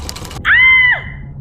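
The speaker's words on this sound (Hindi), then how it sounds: "मुंह से चीख निकल गई" A woman screams in pain after catching her finger in a sewing machine, a single loud sustained cry lasting about half a second that ends in a falling tail, following a short burst of quieter noise.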